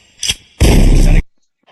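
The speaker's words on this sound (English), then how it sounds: "Make that pistol pop." A pistol fired during a loud comedy show, one sharp near bang that follows a brief pop, then silence.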